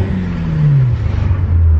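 A straight-piped Ford Fusion exhaust rises in pitch as the engine revs, then settles into a rough, loud drone, heard up close with no talking.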